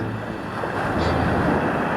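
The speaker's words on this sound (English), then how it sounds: "These waves are about as smooth as you'll ever see on the East Coast." Smooth ocean waves wash onto the beach at Myrtle Beach on the East Coast, a steady close rush of surf with wind noise on the microphone.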